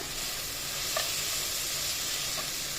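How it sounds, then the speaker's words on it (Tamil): Onions and tomatoes sauté in a pan for channa masala, giving off a steady, moderate sizzling hiss with a couple of soft clicks from stirring, and no voices. "நல்லா வதங்கிருச்சு பாருங்க வெங்காயமும் தக்காளியும்"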